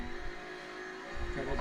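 Stock race cars at the North Wilkesboro All Star Race: a continuous engine roar with rising revs near the end, heard under a person talking.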